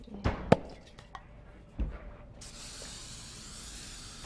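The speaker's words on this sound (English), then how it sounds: "Let's get some spray here. Spray it really well." Cooking spray hisses into a foil-lined baking pan for brownies. A few knocks and clatters come first, then a steady, close aerosol hiss runs to the end.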